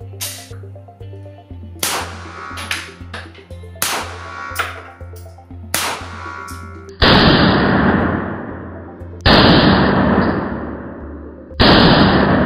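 9mm ball rounds fired into a level IIIA body armor front panel. Several sharp, loud gunshots ring out near the start, followed by three heavier blasts spaced a few seconds apart, each with a long ringing decay.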